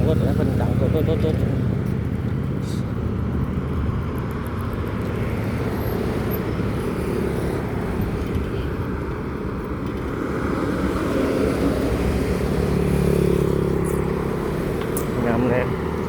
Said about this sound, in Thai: โอ้เบิ่งนั่นเสียงรถนะเพิ่นดังโต